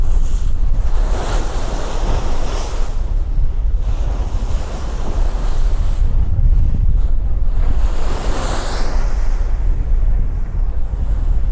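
Ocean swells and breaking waves splash against the hull of a Manly Ferry crossing the entrance to Sydney Harbour near South Head, a loud continuous wash of surf with heavy wind buffeting the microphone and surging bursts of spray.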